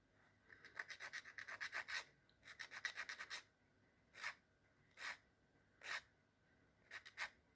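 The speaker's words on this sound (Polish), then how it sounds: "No i tutaj piłuję jeszcze właśnie od góry" A broken fingernail being filed with a nail file: quick rapid bursts of scratchy rasping strokes, then slower single strokes with pauses, close and faint.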